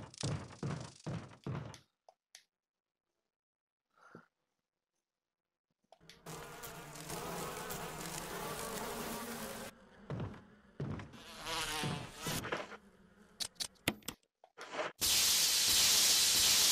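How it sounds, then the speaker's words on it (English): Bees buzz in the Resident Evil video game on PS4, arriving as intermittent droning bursts separated by silent gaps, then swelling into a loud, steady swarm hum at the end. "Why are those bees there?"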